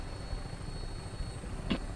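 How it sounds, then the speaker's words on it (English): A helicopter flies steadily in Fallout 4, giving a faint, continuous low rotor rumble with a brief brighter flutter near the end. "I don't want to leave the helicopter."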